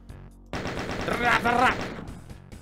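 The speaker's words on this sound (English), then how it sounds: "Minigun go brrrr." A minigun firing in the video game DOOM, starting abruptly with a dense, buzzing spin-up of extremely rapid shots that swells louder midway, then trails off.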